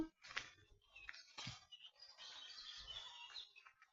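Birds chirp and tweet in quick bursts over a quiet outdoor background in the Gütersloh botanical garden in spring, the calls fairly faint and scattered.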